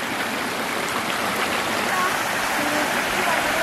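Clear, cold stream water flows at a spot near Thonikkadavu in Kozhikode, a steady broadband rush that stays even and close throughout, with no clear talk over it.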